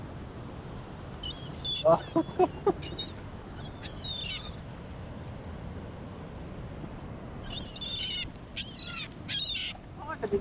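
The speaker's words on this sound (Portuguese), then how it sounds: "Olha o tanto de pomba que tem aqui." A flock of pigeons gathers at the Pelé memorial, with scattered bird calls and flutters rising in short bursts over a steady outdoor background while people talk nearby.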